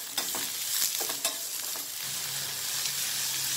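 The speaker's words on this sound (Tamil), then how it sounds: "கொஞ்சமாக எண்ணெய் சேர்த்துக்கோங்க. சீரகம், வெங்காயம் சேர்த்துக்கிறேன்." Onions and cumin sauté in a little oil for onion samosa filling, with a bright continuous sizzle broken by several quick spoon scrapes and taps early on, then an even frying hiss.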